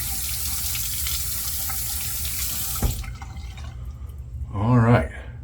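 Tap water runs steadily into a sink to warm a shaving razor, a broad continuous hiss for about three seconds, then it cuts off and a voice speaks briefly near the end.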